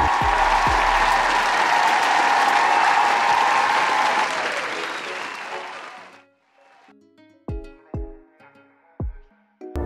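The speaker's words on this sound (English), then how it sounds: "give yourself a round of applause" A crowd gives a loud, dense round of applause that fades out after about six seconds, followed by a few sparse, sharp percussive hits.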